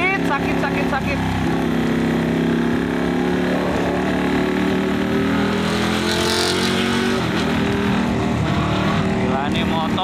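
Loud, steady engine roar from a modified Ducati Panigale motorcycle, with a brief surge in revs midway and people talking over the noise.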